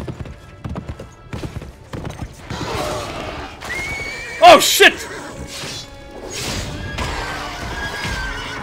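A horse in the video game Lord of the Rings Conquest whinnies loudly and gallops, hooves clopping with crashing impacts, while someone shouts and talks excitedly over the game sound.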